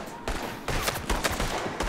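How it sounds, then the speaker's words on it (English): Explosive gunfire from the video game Red Dead Redemption 2, modded with explosive and lightning effects, comes as a dense, loud rapid series of blasts and cracks filling the whole moment. "So we got explosion and lightning out of that."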